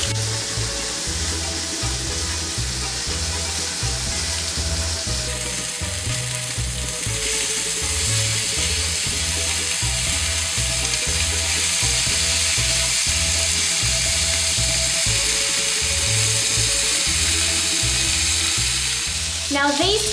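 Quails browning in a pan, giving a steady, loud sizzle of frying that runs unbroken throughout, with a rhythmic low-pitched pulsing beneath it and a faint high whine through the middle.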